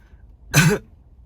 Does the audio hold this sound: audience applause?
no